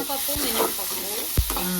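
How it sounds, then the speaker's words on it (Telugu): A frying pan of Indian tempering with tomato, green chili, chana dal, urad dal and onion is stirred over sizzling oil, with steady frying hiss and a couple of sharp scraping knocks from the spoon, heard alone without talk. "తాలింపు వేసాం గాయస్, కలుపుతున్నాను"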